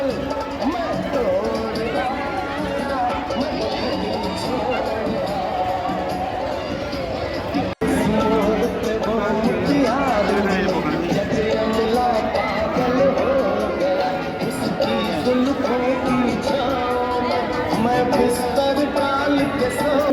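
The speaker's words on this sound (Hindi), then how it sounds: "तो मेले में काफ़ी भीड़ हो रही थी।" A busy fair (mela) crowd in Uttarkashi makes a steady, loud hubbub of many overlapping voices and movement that fills the whole stretch, with only a brief dip partway through.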